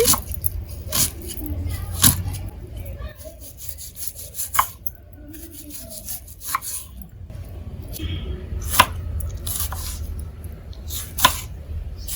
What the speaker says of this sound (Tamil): வெங்காயம், தக்காளி, பச்சை மிளகாய் இந்த மூணையும் கட் பண்ணி எடுத்துக்கலாங்க